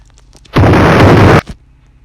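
A single loud, booming explosion in the video game Brookhaven bursts out and rumbles for almost a second, then cuts off into near quiet.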